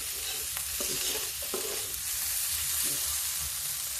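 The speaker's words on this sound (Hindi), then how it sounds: "अब देखिए थोड़ा भून गई है" Small potatoes for a Lucknow-style chaat frying in a pan, with a steady broadband sizzle and intermittent scraping clinks from stirring throughout.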